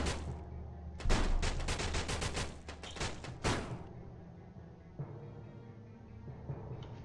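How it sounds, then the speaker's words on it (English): Gunfire rings out in a zombie video game, a cluster of sharp loud blasts followed by a couple of isolated shots over a steady game soundscape. "Get the shotgun out."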